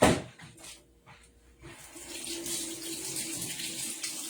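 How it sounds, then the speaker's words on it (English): A kitchen tap runs while hands are washed during home cooking, a steady splashing hiss that swells after a brief quiet start and holds, close and moderately loud, with no talking. "let me just wash my hands"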